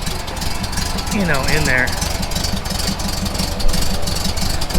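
A VW Junebug rally car engine, prepared for rally use, idles steadily with a rough, knocking rumble throughout, while someone talks over it briefly.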